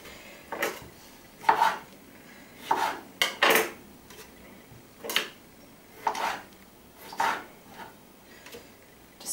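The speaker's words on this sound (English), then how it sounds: "Just the onions, just cut them up quite roughly." Onions are roughly chopped for jollof rice, a knife striking a cutting board in about nine separate sharp chops spaced unevenly, close and crisp with quiet pauses between.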